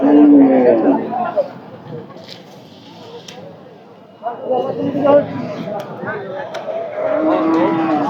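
Cattle at the Barmi bazaar livestock market moo loudly and close by, several drawn-out calls at the start and again near the end, over a murmur of people talking.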